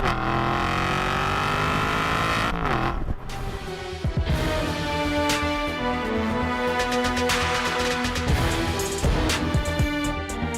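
An Aston Martin V8 Vantage engine revs loudly and continuously, its pitch climbing and dropping through several surges without any talking.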